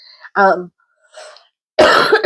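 A sharp, loud cough from someone with a cold bursts out close by at the end, after a few brief vocal sounds and short pauses.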